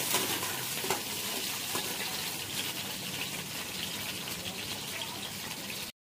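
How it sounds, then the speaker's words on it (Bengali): Potatoes and eggplant fry in a pan with a steady, close hiss and crackle of hot oil that holds even throughout before stopping abruptly. "এই যে আমার আলু আর বেগুনটা ভাজা হয়ে গেছে"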